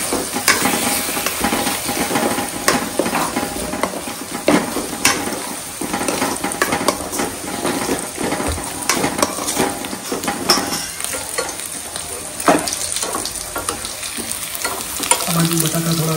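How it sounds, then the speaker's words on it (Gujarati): Potatoes and whole spices fry in oil for dum aloo, a steady loud sizzle running throughout with frequent scraping and clinking of a spoon stirring the pan, no voices. "બાકીના હતા એને બી હલકા ગોલ્ડન બ્રાઉન થાય ત્યાં સુધી બરોબરના તેલમાં ફ્રાય કરવાના"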